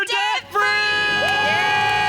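A studio audience lets out a loud, sustained group scream at a live debt-free celebration, rising after a brief pause and holding steady to the end.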